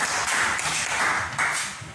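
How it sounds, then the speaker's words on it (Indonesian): A classroom of students claps for a classmate, a steady wash of many hands at close range that pulses slightly for about two seconds, with no talking over it. "Tepuk tangan dulu buat Rangga"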